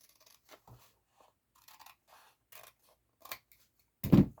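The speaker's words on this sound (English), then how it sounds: "So I'm going to take it and I'm going to trim this edge off." Scissors trim the edge of a paper envelope journal: a string of quiet, scattered snips and crunches, then one louder, sharper cut at the end.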